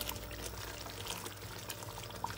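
A yogurt lassi and gram flour mixture is poured into a curry for kadhi pakora, making a soft, faint continuous liquid pour with light splashing, no voices.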